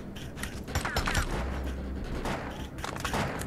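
Gunfire in the third-person shooter MMO Defiance during a combat mission, a rapid burst of shots and mechanical clatter over a busy game soundscape, moderately loud and without talk.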